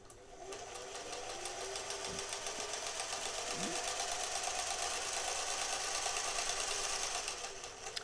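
A Singer slant-needle sewing machine stitches steadily for about seven seconds, its fast, even needle rhythm close and fairly loud, starting and stopping cleanly with no talking.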